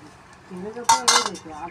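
Fish curry with taro, potato and a fish head is mixed on a plate, with a couple of brief clinks and scrapes of cutlery against the dish over a quiet background.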